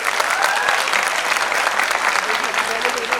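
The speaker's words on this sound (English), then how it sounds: "Come on, guys, a better round of applause." Steady, dense clapping from an audience at a school board film festival, loud and sustained without a break.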